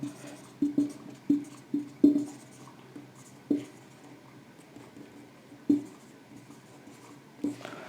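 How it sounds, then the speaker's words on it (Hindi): A pen or marker writes capital letters during a math lesson, short scratchy strokes tapping out in irregular clusters, close and quiet, with no clear talking. "ये कैपिटल लेटर में लिखेंगे क्योंकि यूक्लिड्स जो है नाम है।"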